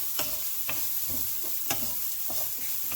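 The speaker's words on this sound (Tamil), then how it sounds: "அதையும் சேர்த்து மிக்ஸ் பண்ணுவோம்" Vegetables for fried rice, seasoned with chili powder, stir-frying in a hot pan: a steady loud sizzle throughout, broken by sharp scraping strokes of the spatula roughly every half second.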